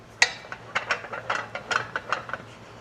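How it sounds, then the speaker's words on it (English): A crank ratchets a wall-mounted tool swing stand into its locked position, a quick run of about a dozen sharp mechanical clicks heard close and clearly against a quiet background. "You want it locked in with the crank."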